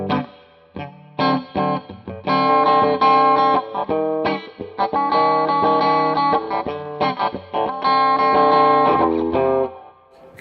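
A humbucker-equipped electric guitar driven through a distorted amp plays choppy, funky chords and riffs, loud and up front, with short gaps between phrases and no talking.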